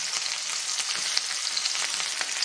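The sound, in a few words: cumin seeds and onions frying in oil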